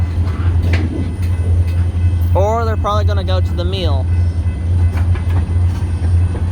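A DeQueen and Eastern GP40-2 locomotive hauling tank cars near Valiant, Oklahoma, rumbles as a steady low drone throughout, with someone talking briefly in the middle.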